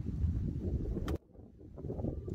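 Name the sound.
wind blowing on a golf course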